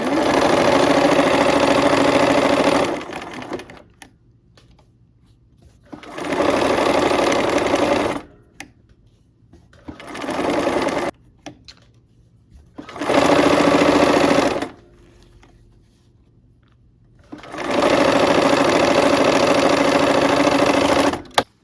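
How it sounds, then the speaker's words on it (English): A sewing machine stitches quilt strips in five loud, close bursts of steady mechanical whirring and needle chatter, each lasting a few seconds and separated by quiet gaps. "let's go ahead and sew"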